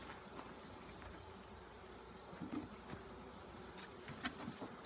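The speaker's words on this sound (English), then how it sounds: "there we have just installed a bee package" Honey bees just installed from a package in a hive, a faint continuous buzz with a few louder bees passing close.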